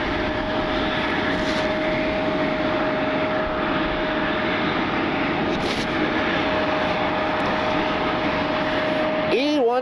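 A United Embraer E175 regional jet at Cleveland Hopkins airport in the rain gives a steady, loud engine roar with a sustained whine, unbroken throughout and rising slightly at the very end.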